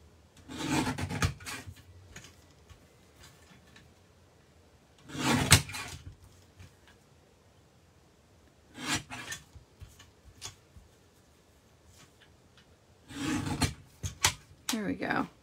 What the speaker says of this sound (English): So I'm just going to trim this down so it's ready to use on a card.